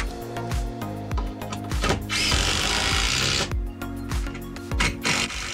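A power drill drives 3-inch coarse-thread deck screws into timber collar ties in an attic, giving a close motor whine that rises and bogs down as each screw bites in, in short repeated bursts.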